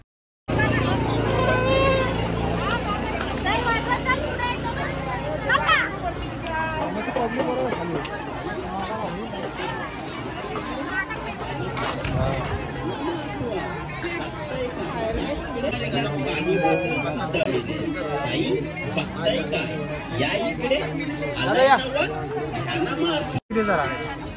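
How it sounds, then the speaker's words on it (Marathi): Dense crowd of devotees at a busy Navratri festival market at the Kelambadevi temple fair, a continuous babble of many voices with passing vehicles, while someone talks over it throughout. "खूप गर्दी तुम्ही बघताय इकडे."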